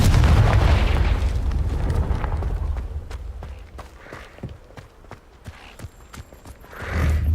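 A fire-blast spell goes off in a fantasy video game with a heavy, booming burst that rumbles and fades, followed by scattered sharp cracks and debris clatter, then a second swelling blast at the end.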